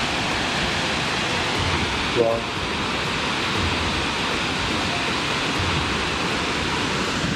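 The Duden waterfall in Antalya, Turkey, roars in a dense, unbroken rush, loud and close throughout, with one short exclamation from a voice a little over two seconds in.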